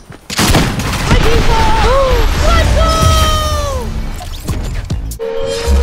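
Burst Quad Launcher rockets fire in Fortnite, a loud gameplay mix of booming launches, whistling rocket tones and explosions over continuous game noise, with no clear talk.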